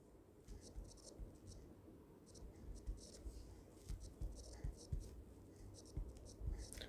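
Pen or marker writing an answer by hand during a maths lesson on Catalan numbers, soft scratchy strokes in short bursts, quiet and close, with low background noise throughout.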